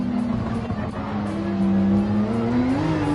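A race car engine in Gran Turismo 7 at the Red Bull Ring drones loudly and accelerates out of a corner. The engine note holds steady, then climbs in pitch toward the end.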